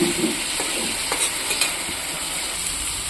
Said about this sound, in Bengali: মাছটা এখন এই মশলার সাথে একটু কষাবো